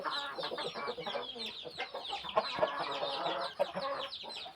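Chickens cluck steadily on a farm, several birds overlapping in a busy, continuous chorus with occasional louder squawks.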